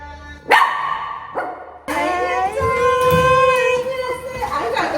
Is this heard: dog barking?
yes